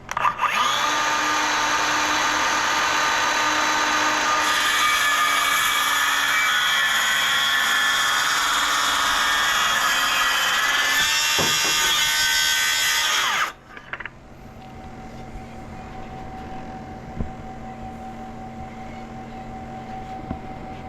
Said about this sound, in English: I just got my circular saw here and yeah, give it a blast